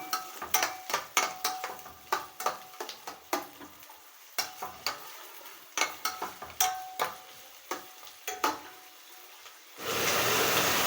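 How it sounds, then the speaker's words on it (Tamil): Vegetables sautéed in a pan, with a spoon scraping and stirring in quick irregular strokes over a soft steady sizzle, ending in a louder burst of frying. "இது கொஞ்சம் வேகிற அளவுக்கு நல்லா வதக்கிக்கலாம்."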